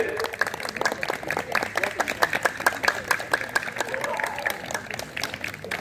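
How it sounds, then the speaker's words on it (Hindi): An audience at an Arya Samaj gathering in Hisar, marking Maharshi Dayanand Saraswati's 198th birth anniversary, claps to welcome children: sharp scattered claps over a murmur, with voices talking through it. "बहुत सुंदर तालियों से अभिनंदन करेंगे बच्चों का, जोरदार तालियों से"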